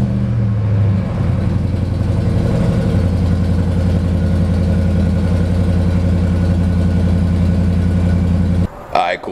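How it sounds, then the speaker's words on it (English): Cold start of a Ram 1500 pickup with its exhaust tips removed: a steady, loud idling engine rumble running almost the whole time, dropping off abruptly near the end. "I know y'all want to hear a cold start"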